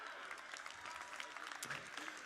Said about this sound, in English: you can clap all day because I agree with you